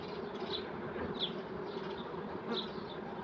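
Honeybees buzzing in a steady, dense drone around a beehive frame holding capped brood and some honey, with individual bees passing close by now and then.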